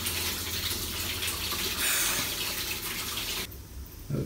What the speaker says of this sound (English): it's just the drain pipes, they run straight through my reptile room and it makes noises whenever someone flushes.